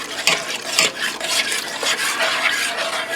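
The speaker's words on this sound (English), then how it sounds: "Let me get my big spoon and stir this while I do it." A big spoon stirring milk into steak stroganoff sauce in a pressure cooker pot, soft repeated scraping and swishing strokes at close range, moderately quiet.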